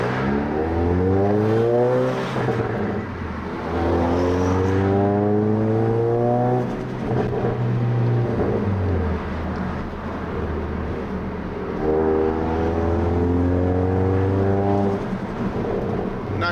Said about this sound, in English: let me see if I can get you a couple of turbo sounds